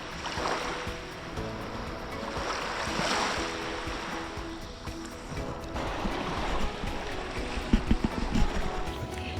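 Surf rolling onto a Lake Michigan beach at Oval Beach in Saugatuck, a steady broadband wash with swells building and receding, wind mixed in, a few sharper splashes near the end, no voices.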